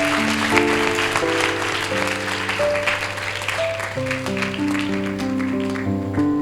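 Worshippers at a youth camp service clap together to thank the Lord, a steady wash of applause running under sustained keyboard chords that shift in pitch, with no talking.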